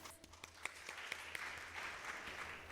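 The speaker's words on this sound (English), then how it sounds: "Warm round of applause." A conference audience at ArabNet Beirut gives a warm round of applause for a startup speaker, a short burst of many hands clapping with a few sharp individual claps standing out.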